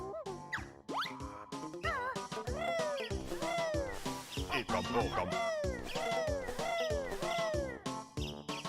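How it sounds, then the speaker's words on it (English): Chirpy, squawking bird calls from the Banjo-Kazooie game repeat in quick, constant bursts, loud and close, with rising and falling warbles and a few short clipped game sounds mixed in. "Unfortunately, the noise is going to be pretty constant through this run, so I hope you enjoy bird noises"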